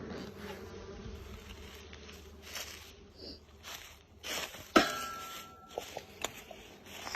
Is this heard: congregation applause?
no